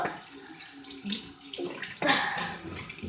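Water runs steadily from a tap while someone washes their face, a continuous close splashing hiss with brief surges as hands scoop and rinse.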